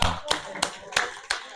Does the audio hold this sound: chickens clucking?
no